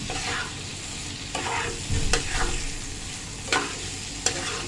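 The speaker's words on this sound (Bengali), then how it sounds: "আমার এই মাছটা একদম ভাজা ভাজা হবে" A large fish sizzles in hot oil, with a steady crackle broken by a few sharp scraping stirs of a utensil in the pan.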